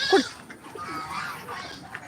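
A goat gives a single sharp bleat up close at the start, followed by quieter background rustling.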